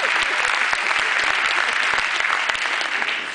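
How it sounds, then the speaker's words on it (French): An audience applauds steadily, women among them joining in, with dense overlapping claps from a nearby crowd sustained throughout without letup. "je vois que les dames applaudissent également."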